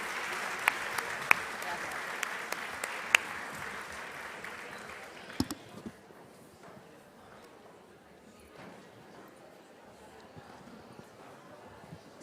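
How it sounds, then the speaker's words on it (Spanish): Audience applause for the first panel of a conference on European recovery funds, loud sustained clapping that fades after about five seconds into quiet room noise with faint movement. "Un aplauso, por favor, para esta primera de las mesas."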